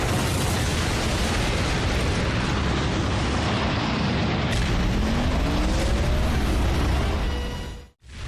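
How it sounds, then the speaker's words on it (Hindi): Cartoon explosion from Transformers Prime: a loud, sustained roaring blast with rumbling debris that fills nearly eight seconds, a rising whoosh midway, then an abrupt cut to silence. "ये जगह फटने वाली है।"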